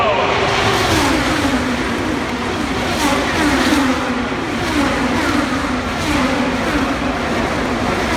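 IndyCar race cars roar past in a pack during the opening lap of the Indy 500, a loud, continuous engine wail with a shifting pitch over crowd noise, while an announcer talks throughout.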